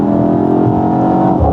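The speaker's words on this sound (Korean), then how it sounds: "인공 배기음이지만 그래도 굉장히 약간 리얼리티하게 잘 맞춰놨어요" Artificial exhaust sound from a BMW X1 M35i SUV revving, a loud, close, sustained engine drone with a steady tone.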